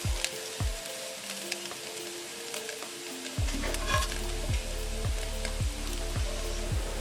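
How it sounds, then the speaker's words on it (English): Beef and onions go into a pan with potatoes for a quick weeknight dinner, setting off a steady close sizzle of frying with stirring scrapes, louder and denser halfway through. "I'm going to go ahead and add the beef and onions to the pan with"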